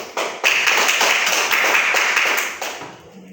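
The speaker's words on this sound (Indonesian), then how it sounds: "Tepuk tangan." A classroom bursts into applause for a student's answer, many hands clapping close and loud for about three seconds before tapering off.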